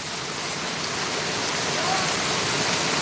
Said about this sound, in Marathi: खूप भयानक पाऊस पडतोय